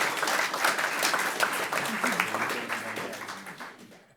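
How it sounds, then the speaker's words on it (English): Audience applause at a panel event on children and phones, a dense steady crowd clapping that fills the room and tapers off near the end, with faint voices under it. "Can we just give a quick round of applause to thank our speakers?"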